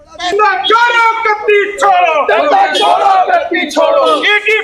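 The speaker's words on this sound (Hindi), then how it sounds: "लखनऊ में आम आदमी पार्टी प्रोटेस्ट कर रही थी" Aam Aadmi Party protesters in Lucknow chant loudly in unison, a dense crowd of voices in strong rhythmic bursts that fills the whole stretch.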